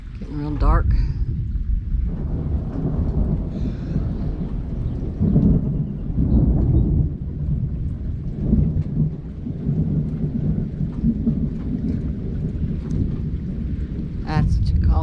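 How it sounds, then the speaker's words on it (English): Deep rolling thunder rumbles on and off through a dark late-afternoon rainstorm over a street, with steady rain underneath and someone speaking over it at times. "That's what you call some rolling thunder."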